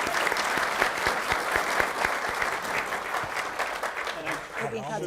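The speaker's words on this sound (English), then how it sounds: "So please join me in a round of applause." A room full of listeners gives a round of applause, dense and even clapping that runs steady for a few seconds and tapers slightly at the end.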